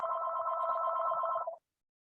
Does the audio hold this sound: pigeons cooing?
no